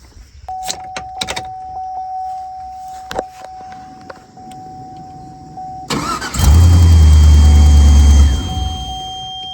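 A car engine is cranked using a JFEGWO F60 jump starter: after a few quiet clicks and a faint electronic tone, the starter churns briefly and the engine catches into a loud, steady idle close by.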